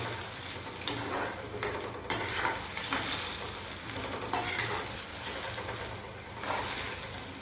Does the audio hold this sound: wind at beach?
no